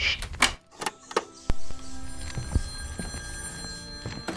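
A telephone ringing in an indoor scene, its bell-like rings sounding in a few short bursts at moderate loudness, alone with no speech.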